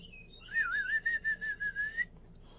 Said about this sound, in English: Me whistling.